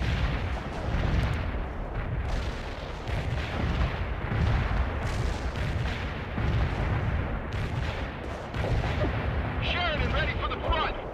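Mortar strikes and artillery fire in the real-time strategy game World in Conflict, a dense run of rumbling booms and blasts with radio-style voices talking over them.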